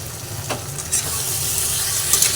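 Taro greens with shrimp frying in a pan as they are stirred, a steady close sizzle with brief scraping strokes of the spoon, no voices.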